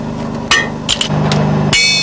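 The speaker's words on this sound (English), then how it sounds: "His little hammer has just detected a possible loose tire on one of our wheels." A few sharp metallic hammer taps ring against a train carriage's steel wheel, checking for a loose tire, spaced irregularly over a steady low hum, each strike leaving a brief bright ring.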